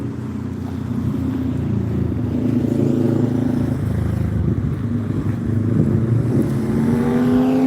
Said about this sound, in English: why does everybody around here have to drive such loud cars?